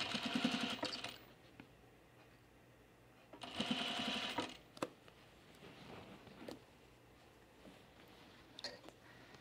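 A sewing machine stitches gathers on a dress in two close, fast whirring bursts of about a second each, followed by quieter clicks and fabric handling.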